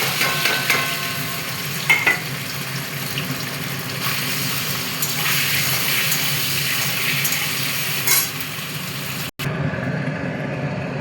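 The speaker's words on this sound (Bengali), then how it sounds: "তেল আমার গরম হয়ে গেছে, এবারে পনিরগুলো আমি ভেজে নেব।" Paneer pieces fry in hot oil in a pan, a continuous loud sizzle with occasional clatter and stirring, ending abruptly with a quieter tail, no talking.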